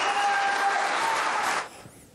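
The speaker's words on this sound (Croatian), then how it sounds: "Gromoglasan aplauz." Applause from a television studio audience, a dense burst of clapping that holds steady for about a second and a half and then cuts off abruptly, leaving faint background.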